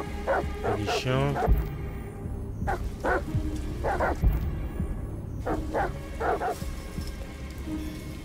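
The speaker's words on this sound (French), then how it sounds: "Les chiens." Dogs in the video game Detroit: Become Human bark in repeated clusters of sharp yips and woofs over a rumbling game soundscape, while someone talks throughout.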